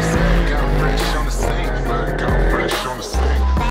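A Mercedes E63 AMG roars loudly as its engine revs hard while its tires squeal and skid continuously, with the engine note dipping and surging again near the end.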